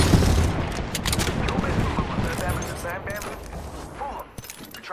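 Dense gunfire from an Apex Legends match, a steady clatter of shots mixed with booms and mechanical clicks, with voices talking over the fight throughout.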